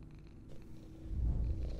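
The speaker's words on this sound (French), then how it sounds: "Il y a un chat." A cat purrs in the video game Pieces of Me, a low continuous rumble that starts soft and swells louder toward the end, close and alone without speech.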